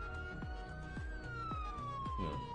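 A police siren wails with a slowly rising and falling tone, fairly faint and distant, under loud rhythmic music with a steady beat.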